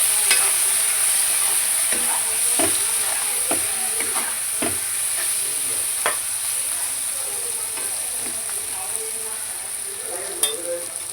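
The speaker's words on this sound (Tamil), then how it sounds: "தக்காளி நல்லா வேகட்டும் தக்காளி நல்லா வதங்கிடுச்சு" Tomatoes sautéing in a pan for a fish curry, a steady close sizzle of hot oil with scattered scraping clicks as the spoon stirs, continuing evenly with no talking.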